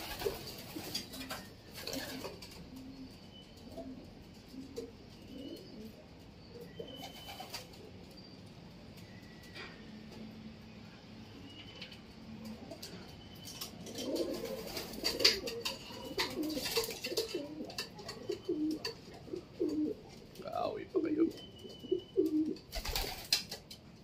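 Soft pigeon coos repeat in the background among faint rustling and scattered clinks, growing busier toward the end.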